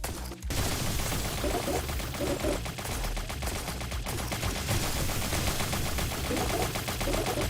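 Max-level War Machine sentry in Roblox Tower Defense firing nonstop, a dense, loud rattle of rapid machine-gun bursts that fills the whole stretch after a brief opening gap.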